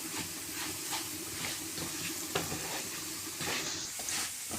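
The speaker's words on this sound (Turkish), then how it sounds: "Şöyle pirincimiz güzelce kavruldu." Rice toasting in a pan for Karacadağ rice pilaf gives a steady, close sizzle with soft scraping stir strokes and a few brief clinks, heard alone without talk.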